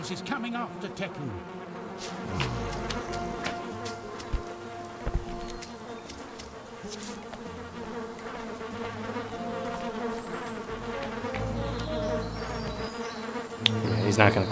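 A continuous buzzing bee swarm fills a video game scene, a dense insect hum with scattered clicks and game music beneath it, steady and fairly loud throughout.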